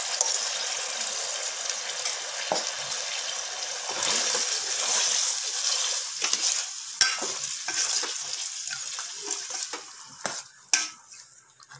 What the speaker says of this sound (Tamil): இந்த மசாலாவும் இந்த எண்ணெயிலேயே ஒரு 2 நிமிஷம் வதங்கட்டும்